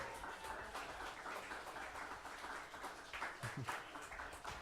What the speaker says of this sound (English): Let's give another round of applause for Angelo Charles.